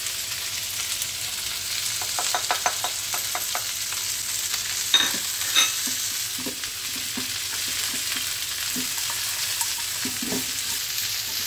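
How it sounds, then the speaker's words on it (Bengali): Okra fries in an open pan while being stirred and turned over, giving a steady sizzle under a run of quick rhythmic scrapes followed by slower, scattered knocks of the spatula, with no voices. "খুব ভালো করে নেড়ে দিই। ওপর নিচ করে দেব।"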